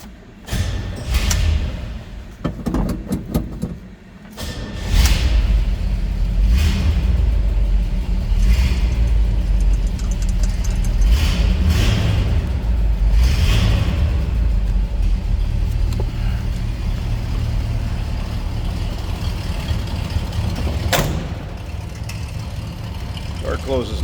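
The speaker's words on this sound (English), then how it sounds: "I want to fire this up for you so you can hear it run." A 1980 Chevrolet K10 Custom Deluxe 4x4 pickup with a 350 V8 runs at a steady, loud low rumble that fills the whole stretch, with a few thumps near the start and a slightly cold-blooded idle.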